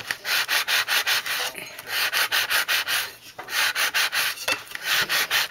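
Rhythmic back-and-forth sandpaper strokes rub the surface of a pickle jar being prepared for painting, close and steady, in quick regular bursts with a few short pauses.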